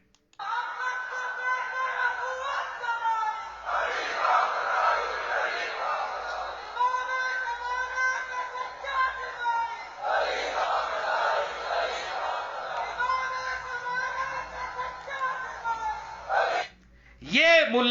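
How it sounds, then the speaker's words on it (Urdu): A crowd chants slogans in loud, rhythmic unison, with repeated surging shouted phrases separated by brief pauses, swelling and falling in waves across the whole stretch. "نعرے سن رہے ہیں آپ؟"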